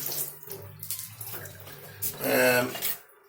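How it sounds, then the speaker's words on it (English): Hands rinsed under a running tap while processing a pumpkin, a steady splashing water rush that swells loudest near the end, with light handling noise before it. "Let me just wash my hands because they're slippery."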